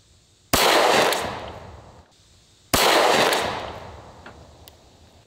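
Two sharp .45 pistol shots ring out outdoors toward a torso target at 100 yards, about two seconds apart, each a loud crack followed by a long, fading echo.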